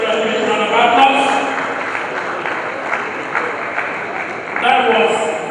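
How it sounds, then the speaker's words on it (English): An audience at a Nigerian Society of Engineers Oron branch gathering applauds a guest lecturer, with a wash of clapping that swells, eases and rises again under a speaking voice. "Can we give our guest lecturer a round of applause?"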